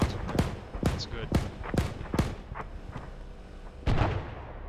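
High-explosive rounds from an ARMA 3 mechanized assault slam into a target area in a series of about six sharp, booming impacts spaced roughly half a second apart, with faint voices underneath.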